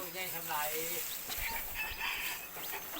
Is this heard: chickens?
yes